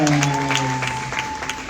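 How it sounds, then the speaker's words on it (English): Applause from a mentorship conference audience welcoming a speaker, brief and dense, with a sustained tonal hum or music note running underneath. "a resounding round of applause"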